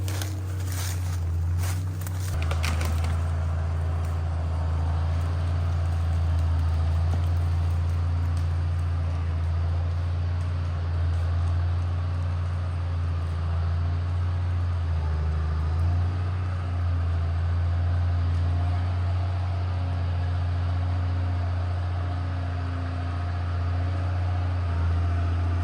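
A vehicle spinning its wheels on wet creek-bottom ground while dragging a tall walnut log, a steady low engine roar with wheel churn, continuous and fairly close.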